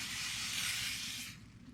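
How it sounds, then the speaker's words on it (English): Cooking spray misted over food on both sides: a steady, close aerosol hiss lasting just over a second, then cutting off into quiet. "Give it a spray on both sides."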